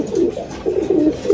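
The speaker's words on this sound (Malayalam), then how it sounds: "ഈ പ്രാവ്." Pigeon cooing in a loft, a domestic racing-style bird giving low throaty coos in several soft repeated phrases, close and steady with no talk.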